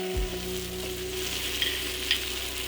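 Cumin and coriander added to a pan with beef for a slow-cooked beef stew, sizzling in a steady, close hiss with faint stirring touches; a low hum runs underneath and no one speaks.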